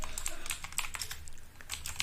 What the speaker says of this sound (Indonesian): Kita tinggal ketik aja